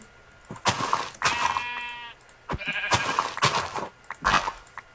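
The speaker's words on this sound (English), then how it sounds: "Go away, sheep." Sheep in Minecraft bleat several times in quick succession, loud and close, with wavering harmonic cries separated by brief pauses and no talk over them.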